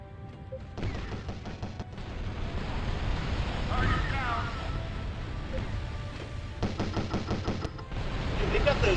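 Missile launches in the space tank game Battlezone Combat Commander, a burst of rapid crackling firing and thumping blasts over a continuous rumbling engine bed, loud and close, with a second volley near the end.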